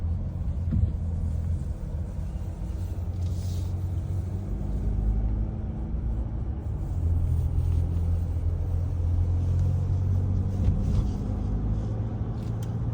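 Kia Tasman pickup under acceleration on the road, heard from inside the cabin as a steady, loud low engine and road rumble that rises slightly in the second half, with no talking.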